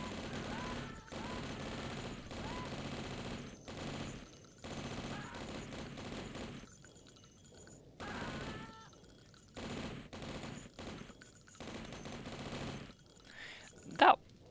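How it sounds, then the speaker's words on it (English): Gunfight against cultists in the video game Blood, level E1M6 The Great Temple: rapid bursts of gunfire and loud shots repeat throughout with brief pauses, ending in a sharp louder blast near the end. "That little gunfight"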